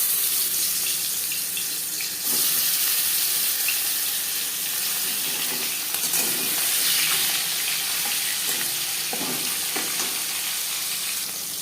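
Katla fish frying in hot oil in a home kitchen pan, a steady broadband sizzle and crackle running throughout with occasional louder spits and pops, close and continuous with no talking.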